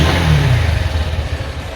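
A Honda CB Hornet 160R motorcycle engine runs loud and close, a steady mid-pitched mechanical drone with a slight rev dip and faint clatter.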